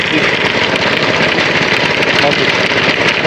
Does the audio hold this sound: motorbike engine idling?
yes